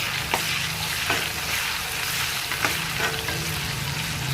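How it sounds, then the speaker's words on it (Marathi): Onions frying in oil in a pan with bay leaf and curry leaves for misal, a steady close sizzle broken by a few sharp scrapes and clicks of stirring. "आता बघा याच्यात आपण कांदे टाकले."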